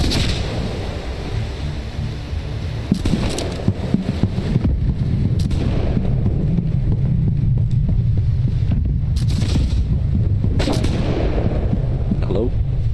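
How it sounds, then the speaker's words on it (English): Heavy pirate ship cannon blasts in the video game Blackwake boom repeatedly over a constant rumbling background, several loud bursts spaced irregularly, with voices talking now and then. "Just fire cannons and..."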